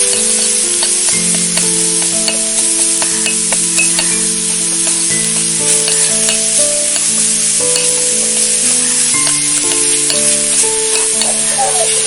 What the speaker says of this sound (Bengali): এবার দিয়ে দেবো একটু আদা বাটা, আদাটাকে আমি একটু কষিয়ে নেব।